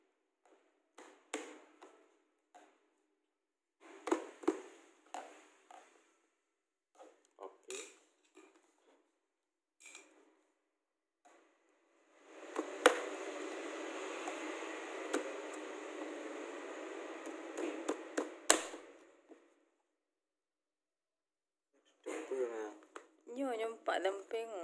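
Tapping to loosen the lid of a can of Nippon Paint wall paint: a sustained run of rapid metallic knocks with a scraping hiss, between stretches of talk and scattered lighter taps.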